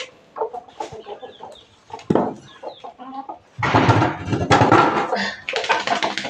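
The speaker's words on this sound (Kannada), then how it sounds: "ಕೋಳಿಗಳಿದಾವೆ ಇಲ್ಲೊಂದು ಸ್ವಲ್ಪ." Chickens cluck in short, scattered calls nearby, then a louder and denser burst of flock noise follows, with some human voices mixed in.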